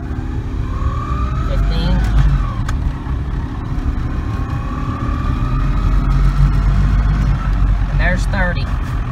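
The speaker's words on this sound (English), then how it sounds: "So I pull up to the line, first gear, and get on the throttle a little bit smooth, and there we go." Fully electric Chevrolet S10 Blazer pulling away from a standstill, a loud steady rumble of road and drivetrain noise with a rising whine beneath it as a driver talks throughout.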